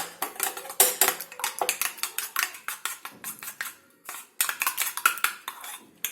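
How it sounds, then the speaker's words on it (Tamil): A utensil beats egg with chopped onion, salt and pepper in a bowl, giving rapid, irregular clinks and scrapes against the bowl at close range with short pauses, no voices. "இதை நல்லா மிக்ஸ் பண்ணி வச்சுக்கோங்க."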